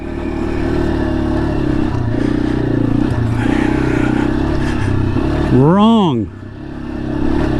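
A Yamaha XT250 dual-sport motorcycle engine runs at a steady idle after a bump start in the desert, then revs up sharply and drops back, close by, while someone speaks.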